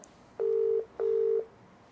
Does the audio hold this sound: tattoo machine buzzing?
no